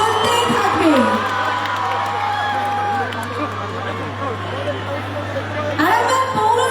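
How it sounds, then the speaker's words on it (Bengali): A large outdoor festival crowd on the eighth evening of the Arambag Utsav cheers and whoops continuously, a dense, loud roar of voices and shouts with a steady hum beneath. "জোরে জোরে চিৎকার আর করতালি চলতেই থাকবে।"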